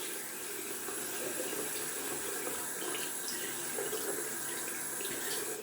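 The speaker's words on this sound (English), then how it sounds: "I'm gonna add in some cold water as well on top of that." Steady running water pours from a tap into a sink, a constant close hiss and splash with no break.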